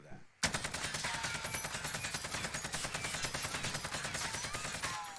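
A rifle fitted with a SUSAT scope fires in a sustained automatic burst in the video game Warzone, rapid, evenly spaced shots that are loud and close for about five seconds.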